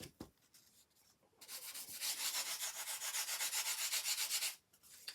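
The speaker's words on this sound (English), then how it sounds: "The more you burnish it," Powder blue embossing powder is burnished on card, a steady rhythmic scratchy rubbing that swells to a loud, close back-and-forth strokes for a few seconds, then stops abruptly.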